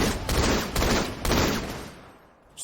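Rapid bursts of gunfire ring out in Halo: The Master Chief Collection, three loud, dense volleys in quick succession with a brief quieter gap before a final shot.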